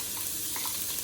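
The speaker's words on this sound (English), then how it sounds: "I chopped ingredients into the pan and fry them off" Chopped celery, onion, carrots and garlic frying in oil, heard as a brief, even crackling sizzle up close with no speech.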